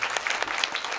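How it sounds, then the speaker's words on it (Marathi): An audience claps for a young musician, a brief, dense burst of steady applause from a crowd. "पण या बाळासाठी एकदा टाळ्या वाजवा सांगा"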